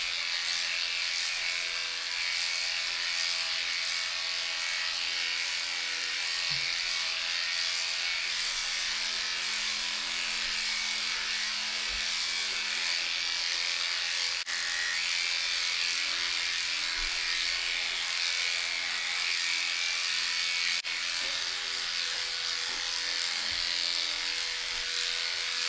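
Electric clippers grooming the coat of an Australian Labradoodle, a steady, close, continuous motor buzz with a high whine, running unbroken throughout with only faint incidental bumps.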